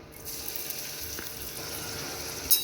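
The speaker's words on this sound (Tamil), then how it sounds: "இதை நல்லா ஃப்ரை பண்ணிக்கலாம்" Two medium onions, finely chopped, frying in hot oil for a spicy brinjal curry, a steady close sizzle with a light clink near the end.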